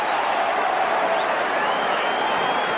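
A large football crowd at an AFL match between Adelaide and Collingwood roars and applauds an umpire's free kick, a dense sustained cheer filling the whole moment.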